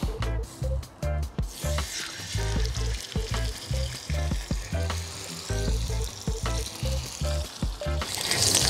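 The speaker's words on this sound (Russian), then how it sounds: "Но первое буду жарить мясо" Pork steaks sizzle and crackle in vegetable oil in a saj pan over a charcoal grill, a steady loud fry with periodic sharp spits and clatter as pieces are moved, no voices.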